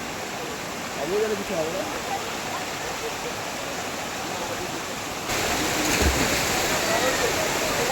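Cold stream water rushing over rocks at Mainpat, a steady broadband flow that grows louder partway through, with a brief voice speaking over it.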